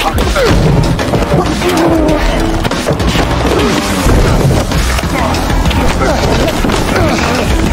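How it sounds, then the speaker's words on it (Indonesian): Fistfight in a film, dense loud thuds, smacks and crashing impacts over a busy mixed soundtrack with some voices. "Adu jotos pun akhirnya tak terhindarkan."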